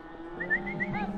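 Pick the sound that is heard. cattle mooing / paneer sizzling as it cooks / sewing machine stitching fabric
cattle mooing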